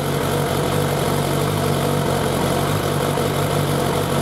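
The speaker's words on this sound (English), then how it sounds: "we let the engine idle until it's hot" A Suzuki Bandit 1200 motorcycle engine idles steadily after warming up, a continuous close, even low rumble with no talking over it.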